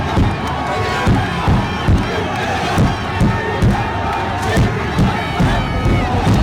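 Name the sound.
football fans chanting and drumming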